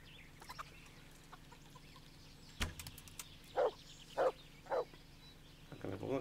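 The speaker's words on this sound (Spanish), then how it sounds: "¿A que me pongo a cazar gallinas?" Chickens cluck in the medieval role-playing game Kingdom Come: Deliverance, with a few short bursts of clucking spaced across the clip over a low ambient background, fairly faint and without talk.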